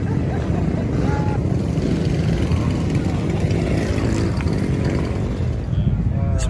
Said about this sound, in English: Check out this very rare BMW. Sounds good.